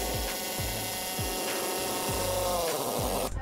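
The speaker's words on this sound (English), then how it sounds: "So I'm gonna drill a hole, got my drill bit in here" A power drill bores a hole through a wall at an angle toward the inside of a house, giving a steady close grinding whir with rhythmic scraping pulses from the bit, and no talking.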